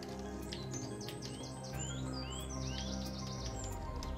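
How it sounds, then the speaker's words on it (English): Seagull calls in I Am Fish by a forest stream, a series of high, rising and falling cries repeating over a steady bed of running water and ambient game sound. "There he is. Yeah, there's a seagull."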